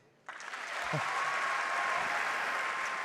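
Audience in a hall full of young people breaking into applause, rising quickly from near silence into sustained, dense clapping that holds steady at a moderate distance.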